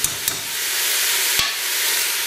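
Ratatouille vegetables seasoned with herbes de Provence fry and brown in a pan, giving a steady, loud sizzle throughout with a few brief stirring knocks.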